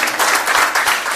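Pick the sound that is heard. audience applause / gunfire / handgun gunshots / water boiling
audience applause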